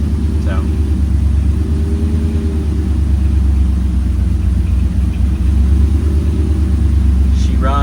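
Buggy engine runs steadily with a low, continuous rumble and throb at a constant idle, close and loud throughout, while a person speaks briefly over it.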